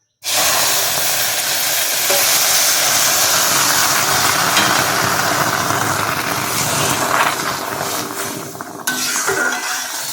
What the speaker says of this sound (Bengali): এই যে আমি জল ঢেলে দিলাম।